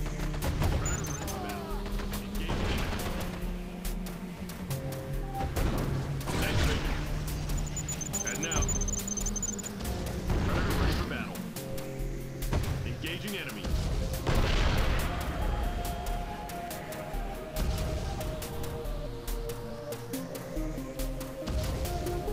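Artillery barrage in the real-time strategy game Tiberium Crisis: repeated heavy booms and rolling blasts over a dense, loud game soundtrack, with shorter pops and bursts between the larger impacts.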